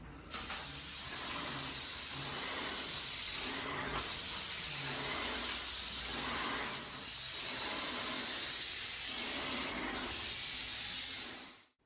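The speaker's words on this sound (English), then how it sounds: "The railway recently purchased an airless spray gun." Airless spray gun spraying paint onto railway car 381 during its restoration, a loud, steady, close hiss running continuously with two brief pauses as the trigger is released and pulled again.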